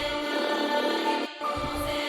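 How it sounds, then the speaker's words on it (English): Tremolo violin strings from the Strings of Winter library, played in an FL Studio UK drill beat, give a dense shimmering sustained chord that breaks off briefly just past the midpoint and then resumes. "some kind of like tremolo strings on this as well, so I think we're going to go try find some violins"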